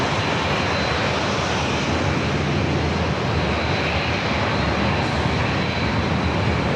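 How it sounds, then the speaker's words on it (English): A KLM Boeing 787-9 Dreamliner departing San Diego airport for Amsterdam, heard as a loud, steady, broad jet engine roar that fills the whole stretch without letting up. "Second heavy of the day, KLM 787-9 Dreamliner heading back to Amsterdam"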